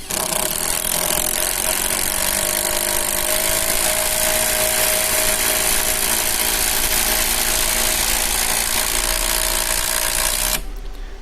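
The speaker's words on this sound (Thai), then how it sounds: "ยิงจมมิดได้อย่างสบายเลยนะ เพราะว่าความแรงของไขควงตัวนี้ 235 นิวตันเมตร" An OSUKA OCID821U-D1 impact driver, rated at 235 Nm, drives a screw fully home with a loud, steady buzzing rattle that runs for about ten seconds and then cuts off abruptly.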